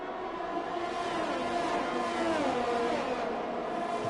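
Formula 1 race cars at the Mexico circuit in the video game F1 2021 scream past in a steady, high-pitched engine whine, revs rising and falling through the turns. The sound is loud and continuous with no talking over it.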